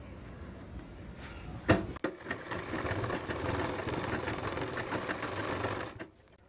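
Sewing machine stitching belt loops onto a pair of trousers, a steady rapid mechanical whirr running for several seconds after a sharp knock, then stopping abruptly.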